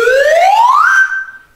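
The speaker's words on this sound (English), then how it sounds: "when I make my sound with my slide whistle" A slide whistle glides steadily upward in one continuous rising tone, then holds a high pitch briefly before fading, played loud and alone in a kindergarten music lesson.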